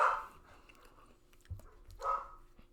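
Indoor dogs let out two short barks about two seconds apart, moderately close in a quiet room, with a soft thump between them.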